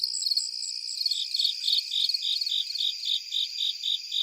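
Several cricket species calling at night, layered high-pitched trilling with one steady chirping pulse repeating about three times a second over a continuous background chorus, no voices.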